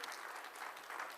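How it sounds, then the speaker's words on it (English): Brief, faint applause from a conference audience at an MSME town hall panel, honouring bankers, a soft even patter of clapping heard from a distance. "Let us give a big round of applause to bankers."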